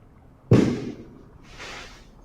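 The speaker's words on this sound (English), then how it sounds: "My neighbors just shot some fireworks" Fireworks set off by neighbors outdoors: one sharp, loud burst, then a quieter crackling hiss trailing away about a second later, with no talking.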